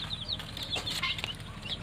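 Local desi chickens cluck and chirp steadily inside a poultry room on a small farm, with overlapping near and mid-distance calls, a few brief wing flaps, and a low background hum.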